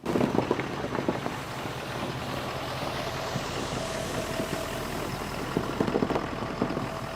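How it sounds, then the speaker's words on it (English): A 2017 Ford F-250 diesel truck idling outdoors in snow, a steady low engine rumble under heavy wind buffeting against the microphone, with gusty bursts at the start and end. "This is my 2017 Ford F-250 diesel."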